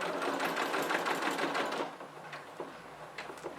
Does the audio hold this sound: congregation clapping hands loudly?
no